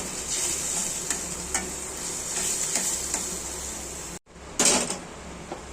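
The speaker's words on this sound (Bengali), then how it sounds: "এই মশলাটা মশলাটা সুন্দর করে ফ্রাই করতে হবে কারণ যাতে কাঁচা গন্ধ না করে" Spice paste frying in a pan for a potato and pointed gourd curry: a steady close sizzle with intermittent utensil taps and scrapes, briefly cut off, then a louder burst of sizzling.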